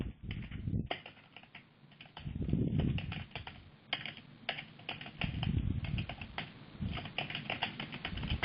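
Steady, rapid clicking of a computer keyboard as someone types in a company name and address, close and continuous with brief pauses and no one talking.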